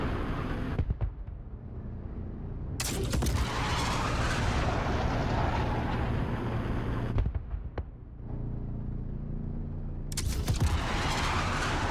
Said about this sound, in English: Let's keep shooting missiles at them, see if they blow up.